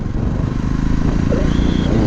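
A Jawa 42 BS6 motorcycle with an engine over-racing problem is ridden, giving a close, continuous loud engine drone with steady throbbing under wind noise.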